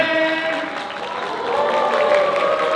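Wedding guests at a convention hall reception clap together in a dense, continuous burst of applause, with a voice carrying over the clapping.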